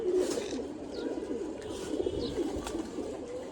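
Pigeon cooing in a rooftop loft, a steady low murmur of repeated soft coos from close by, with faint chirps and no talking.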